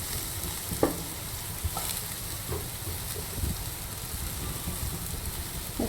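Carrots, capsicum and mushrooms sizzle steadily in a pan while being stirred for white sauce pasta, a continuous crackling hiss with occasional soft clicks of a utensil, close and moderately loud with no voices.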